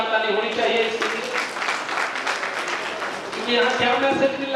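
An audience at a business seminar breaks into applause, a dense wash of clapping that swells in the middle, with a speaker's voice heard at the start and end.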